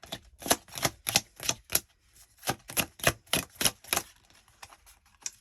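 Tarot cards being shuffled during a private reading, a series of crisp riffling bursts in quick, uneven rhythm, close and fairly loud with brief pauses between them.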